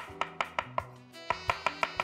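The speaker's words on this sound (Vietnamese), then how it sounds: "Nấm linh chi chúng ta cũng sẽ bầm nhỏ." A knife mincing reishi mushrooms on a cutting board, sharp regular chops in two quick runs of about four and six strokes with a brief pause between, close and clear with no talk.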